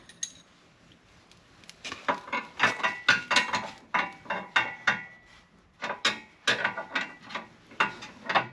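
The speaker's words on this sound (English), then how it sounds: "Let's keep getting his upper bolts out." A ratchet wrench clicks in repeated bursts of rapid pawl ticks as bolts are removed during a winch installation on a side-by-side UTV. The sound is close and loud, with a few quiet pauses and no talking.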